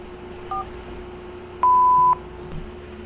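Keypad tones from a telephone menu for an intelligence service line: two short dialing beeps early, then one longer steady tone lasting about half a second, clear over faint background hiss.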